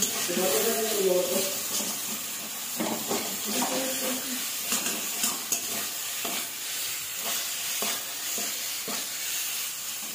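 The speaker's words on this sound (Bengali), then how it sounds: "মশলার সাথে চিংড়ি মাছ ভালোভাবে নেড়ে চেড়ে মিশিয়ে নেব।" Fried prawns are stirred into spice masala in a pan for a Bengali prawn malai curry, with a spoon scraping and shuffling amid a soft sizzle, close up, without speech.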